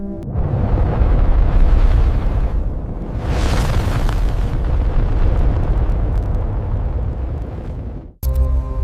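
A cinematic explosion effect for colliding neutron stars: a deep, loud rumbling boom with a rising, roaring swell midway. It cuts off abruptly near the end, then a brief tonal hit follows.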